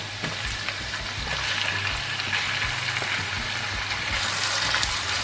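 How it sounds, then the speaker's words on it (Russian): Shrimp sizzle steadily in a hot pan, a dense crackling fry with a low hum underneath, continuous and close. "Теперь добавляю в сковородку креветки."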